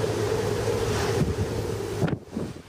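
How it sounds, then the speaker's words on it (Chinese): Hurricane Francine's eyewall winds on the Louisiana coast roar and howl in a loud, gusting rush, with a sharp blast near the end before easing slightly. "仔细听这个呼啸声，"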